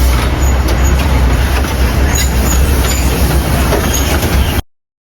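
A train runs through a forest near Matheran, Maharashtra, with a loud steady rumble and rattling wheels that stay continuous close by and then cut off abruptly.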